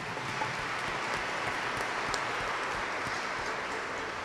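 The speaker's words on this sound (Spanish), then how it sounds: "Fanny, el aplauso para Fanny." Church congregation applauding during a Catholic Mass, a steady dense wash of clapping that stays even and moderately loud throughout with no voices above it.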